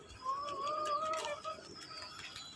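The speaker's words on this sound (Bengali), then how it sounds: "দেখেন, ওরা কিন্তু আমার ছাড়া কবুতর।" Pet pigeons coo softly and repeatedly at close range as they perch on a hand to eat grain, with light rustles and faint chirps mixed in.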